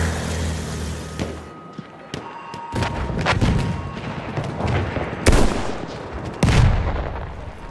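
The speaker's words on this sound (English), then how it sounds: "The enemies are being halted by our artillery barrage." Artillery barrage in the World War One shooter Battlefield 1, 2016 open beta: irregular heavy booms and cracking blasts, several loud impacts spaced a second or more apart over a constant rumbling battle background.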